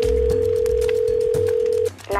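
Cell phone dial tone while calling 911, a loud unbroken steady tone lasting nearly two seconds with soft background sounds beneath, then a short pause before another tone begins.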